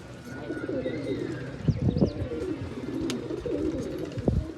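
Pigeons released on a rooftop coo softly in low, rolling calls with a few sharper flutters or knocks, heard at moderate distance against outdoor background noise.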